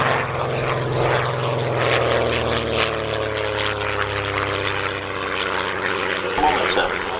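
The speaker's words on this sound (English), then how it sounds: "This aircraft, 200 horsepower Gypsy 6. Gypsy 6 1F to be precise." A vintage aircraft powered by a 200 horsepower de Havilland Gipsy Six 1F engine drones overhead at an airshow, its steady propeller hum rising and fading over several seconds while a commentator talks.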